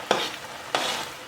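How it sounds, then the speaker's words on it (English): Homemade tomato paste thickening in a pot is stirred in two short scraping passes, separated by a pause, faint and close with no voices. "every few minutes you can kind of stir it so that it won't get burnt"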